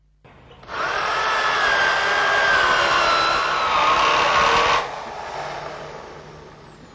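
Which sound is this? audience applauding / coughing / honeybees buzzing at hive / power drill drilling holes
power drill drilling holes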